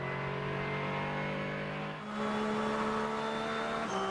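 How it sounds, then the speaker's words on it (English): A Porsche race car engine at the 2006 24 Hours of Daytona screams at very high revs, holding a steady howl with a brief dip midway before climbing again; loud and close, no talking. "Listen to this Porsche engine turning the highest revs"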